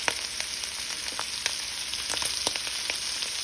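Shrimp frying in butter in a pan, a steady close sizzle with scattered sharp pops and crackles and no talking.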